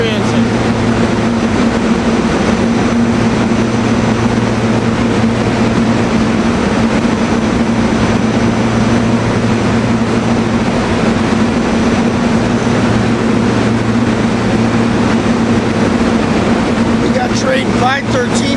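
A train rolling through Paoli station at rush hour makes a continuous loud rumble with a steady low hum throughout, while people talk over it.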